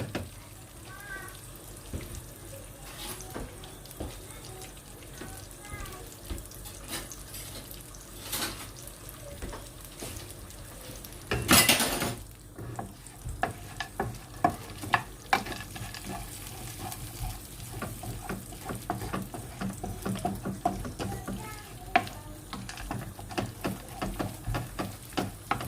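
Almonds and pistachios roast in ghee in a frying pan with a soft, steady sizzle and frequent scraping stirs. One loud burst of clatter comes partway through, and faint background voices are heard.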